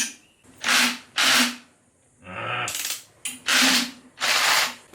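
A power drill fitted with a drill extension unscrewing a part on an engine, heard as several loud whirring bursts with short pauses between them and a brief lower grinding rub in the middle.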